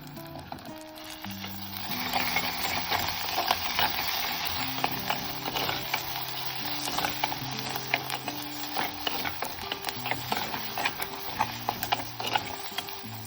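Masala paste sizzles and spatters steadily in hot oil for a Telangana-style pompano fish curry, a loud, continuous frying hiss with occasional stirring and scraping throughout and no talk.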